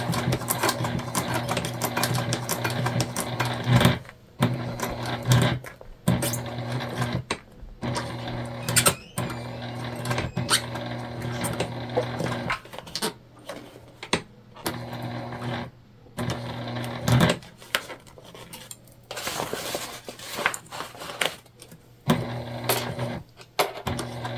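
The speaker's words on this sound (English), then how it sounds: "just sewing across where we butterflied" A sewing machine stitches across a fabric pouch in close-up, its needle chattering steadily in bursts broken by brief pauses, with mechanical whirring and clicks throughout and no talking.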